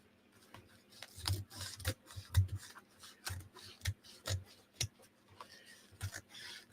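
Scissors trim fabric along the edge of a book cover, giving a series of soft, close snips and rustles in an irregular rhythm with brief pauses between cuts.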